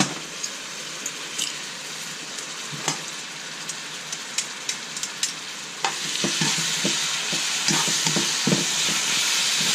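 Garlic frying with onions in a liquid-filled pan, a steady sizzling hiss that grows louder and denser partway through, dotted with sharp clicks and pops of a utensil against the pan.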